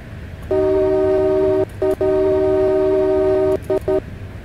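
A loud two-tone horn from a Class 395 train in the video game TramSim blares in a long sustained blast, then a few short toots, another long blast, and two quick final toots.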